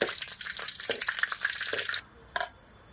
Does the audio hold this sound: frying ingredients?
yes